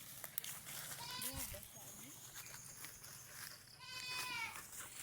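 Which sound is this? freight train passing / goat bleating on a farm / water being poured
goat bleating on a farm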